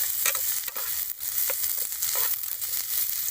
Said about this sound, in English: So now we start to mix.